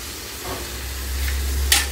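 Egg sizzling in a pan on a gas stove, a steady low hiss with soft crackle building slightly toward the end, with no one talking.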